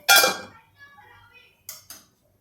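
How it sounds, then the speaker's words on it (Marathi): A lid set onto a pot of grated-tomato pithale lands with one sharp metallic clink, followed by a faint rattle and two quick, lighter taps as it settles, close and clear. "आता आपण या पिठल्याला झाकूया"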